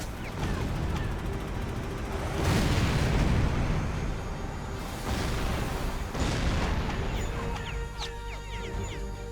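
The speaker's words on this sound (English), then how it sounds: "Direct hit. Target destroyed." Missile strike explosions in the H.A.W.X. 2 jet combat game: a heavy, loud booming blast swells near the middle, with further bursts and rumbling over a continuous roar of engines and combat noise.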